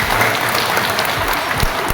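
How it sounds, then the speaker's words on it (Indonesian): A crowd at a campaign rally for Central Kalimantan governor candidates bursts into applause, a close, continuous wash of clapping lasting just under two seconds. "Tepuk tangan dulu."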